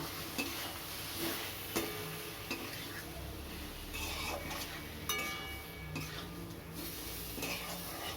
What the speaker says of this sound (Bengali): এবার আমি মাছগুলো দিয়ে দিচ্ছি এবার এটা চাপা দিয়ে আমি কষাবো